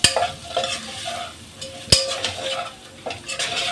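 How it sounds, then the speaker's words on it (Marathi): Peas and carrot with red chilli powder and salt are stir-fried in a pan for dal khichdi, crackling and sizzling close up while a metal spoon scrapes and clinks repeatedly against the pan. "चवीप्रमाणे मीठ आणि हा वाटाणा आणि गाजर सगळं मिक्स करून घेतलंय। आता चांगलं परतायचंय।"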